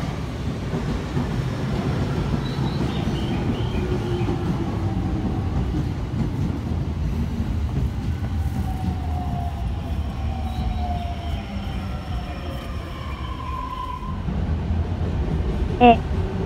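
An E231 series electric commuter train rumbles steadily nearby with a low, continuous roar, faint whines and a brief clank near the end.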